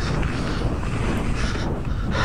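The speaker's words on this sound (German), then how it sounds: "Und man hört am Wind, und ich habe meinen Windschutz drauf, dass hier kräftig Gegenwind ist" Strong headwind buffets a windscreen-covered microphone on a mountain bike trail in a bike park, a loud, continuous, rumbling roar with no pauses, heard alone.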